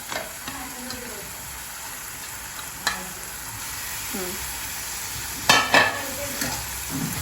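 Chicken pieces frying in a pan, a steady close sizzle with scraping stir strokes and clatter bursts against the pan, a faint voice now and then.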